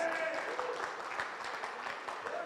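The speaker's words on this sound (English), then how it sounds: "Can we give them a round of applause?" Crowd applause at a high school class reunion, a dense wash of clapping with voices mixed in, lasting a couple of seconds.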